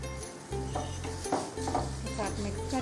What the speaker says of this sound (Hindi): और ये जो कीमा है हमने जो पीसा था अब हम इसमें डाल देंगे। इसमें डाल के अच्छी तरह से इसको मिक्स कर लेंगे